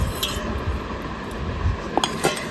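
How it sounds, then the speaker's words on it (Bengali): A spoon stirs dal in a metal cooking pot, giving light scraping and a few sharp metallic clinks over a steady kitchen background hiss. "ডাল নাড়তে বলেছি"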